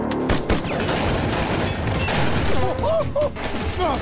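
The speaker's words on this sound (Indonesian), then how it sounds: "pasukan Divisi 8 datang menyerang, sampai tembak-menembak pun terjadi di sana" Rapid gunfire crackles through a shootout in an action film, bursts of shots layered over a busy mix of crashes and shouting voices, loud and close throughout.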